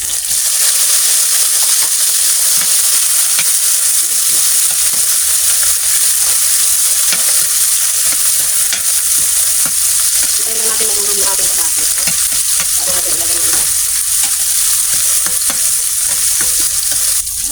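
Onion and tomato sauté in a pan with garlic, giving a loud, constant sizzle and hiss throughout, with occasional stirring scrapes and no talking.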